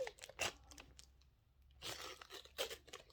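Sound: tearing open a package

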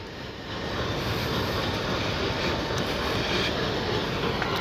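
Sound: WDM3 diesel locomotive at Firozpur Cantt railway station

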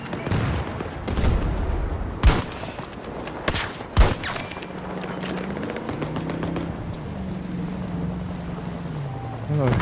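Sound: gunfire in the video game Battlefield 2042

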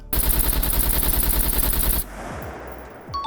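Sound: gunfire testing bullet penetration through level five house, SCUM video game

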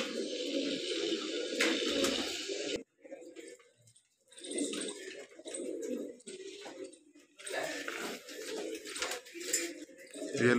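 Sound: pigeons cooing, brown pigeon

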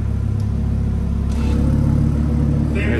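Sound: car engine with exhaust valves open

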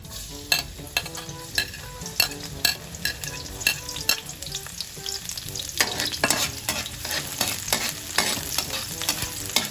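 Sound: garlic sautéing in oil in a pan

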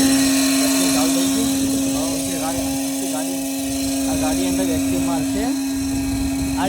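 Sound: car wash vacuum cleaner running

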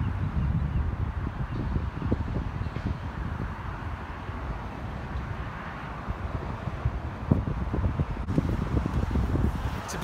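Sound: wind blowing outdoors at a cemetery

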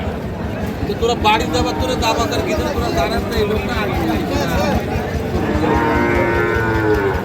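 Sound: cattle mooing at a bull market

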